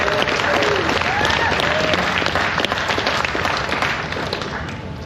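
Audience applause at the Sturgis Rally closing ceremony, a loud dense wash of many hands clapping that holds steady throughout and tapers slightly toward the end, with faint voices mixed in.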